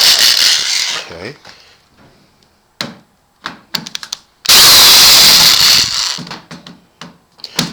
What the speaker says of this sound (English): begin with my Black & Decker to remove the screws